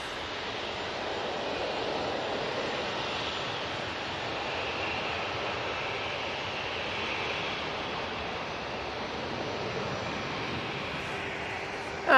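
An Easyjet Airbus A320 bound for Berlin takes off, its engines giving a broad, steady roar that holds strong for over ten seconds, loud and fairly close.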